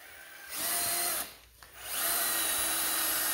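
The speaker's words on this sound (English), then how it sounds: "A step bit, step bit definitely takes a little more work. So I'm walking it this time." Step drill bit boring through a UHMW plastic cutting edge of a Titan SP240 snow plow: a close, loud whining power drill runs in two bursts with a short pause between them.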